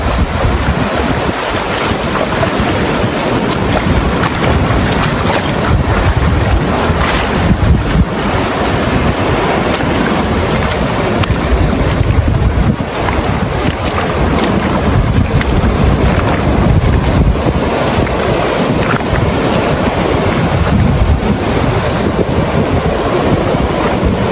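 Steady ocean waves at a lagoon in Bani, Pangasinan wash and roar under heavy wind buffeting the microphone, a loud continuous surge with no voices.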